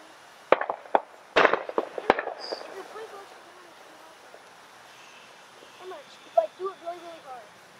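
Handheld fireworks at a Fourth of July celebration give several sharp crackling bursts early on, followed by quieter fizzing, with voices talking and exclaiming nearby toward the end.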